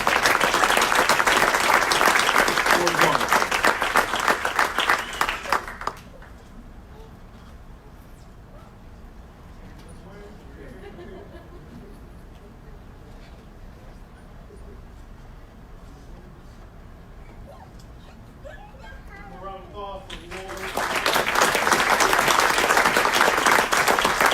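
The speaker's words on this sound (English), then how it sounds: "Big round of applause for Ward 1." An audience at an Aurora city council meeting breaks into two bursts of loud clapping, one at the start and one at the end, with a quiet stretch of faint murmuring between them.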